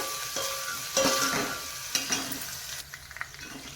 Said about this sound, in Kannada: ಎಣ್ಣೆಯಲ್ಲಿ ಇದೀಗ ಚೆನ್ನಾಗಿ ಫ್ರೈ ಆಗಲಿ ನಮಗೆ